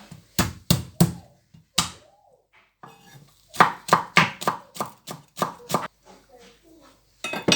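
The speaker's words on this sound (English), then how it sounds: "Chop the garlic." Garlic cloves chopped with a knife on a cutting board, sharp knocking strokes in quick bursts of three to five, with short pauses and small clatters between them, close and fairly loud, no talking.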